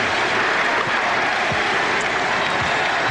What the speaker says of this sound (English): The crowd chanting its appreciation of Jason Kidd with the MVP mantra here.